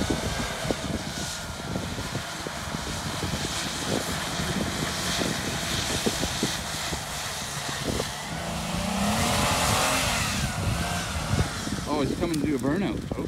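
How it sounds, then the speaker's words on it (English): An RC 4x4 track mudder truck spins all four wheels in a burnout, its electric motor whining and rising in pitch over a scrabbling, sliding rumble, with people talking and calling out over it. "All-wheel drive burnout."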